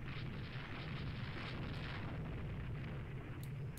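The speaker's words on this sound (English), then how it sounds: "we are firing at basically point blank range into this guy" Naval guns fire at point-blank range at an enemy battleship in the video game Rule the Waves II, heard as a faint, continuous rumble of booming shots throughout.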